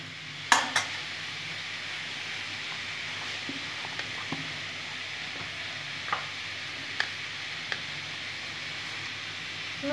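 Bottle gourd with hilsa fish head cooks in a pan with a soft steady sizzle, broken by occasional light clinks and stirring taps of a utensil against the pan.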